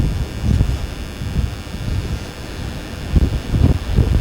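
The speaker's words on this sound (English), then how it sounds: "The wind's taking me off my feet. It is really strong, really gusting." Strong wind buffets the microphone in rough, uneven gusts at Gardenstown Beach in Aberdeenshire, a continuous low roar that swells and surges throughout with no voices.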